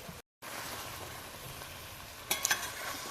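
A cod fillet cooks in a pan with a steady, moderate sizzle and crackle. It runs nearly the whole time, with a short gap near the start and a few sharper pops late on.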